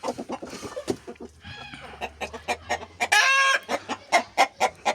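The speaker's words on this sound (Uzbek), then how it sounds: "Tovuqlarimiz sog'lom. Bular hozir 1 yoshga yaqinlab qoldi bu tovuqlarimiz." A flock of healthy, roughly one-year-old hens and a one-year-old rooster cluck close by in a rapid, busy series of calls, with one louder, sustained squawk midway through.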